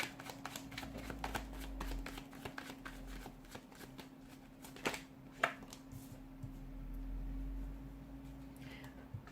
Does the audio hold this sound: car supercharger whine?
no